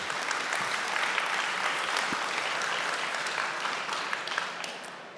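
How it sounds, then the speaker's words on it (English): Steady applause fills a conference hall as the audience welcomes a speaker, an even wash of many hands clapping throughout, moderately loud, with no talking. "Give him a warm round of applause."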